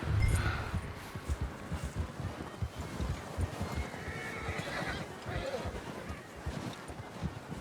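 A horse in the Red Dead Redemption 2 video game whinnies loudly at the start, then hooves clip-clop at a slowing, uneven pace as it comes to a halt, close and clear, with faint wind behind.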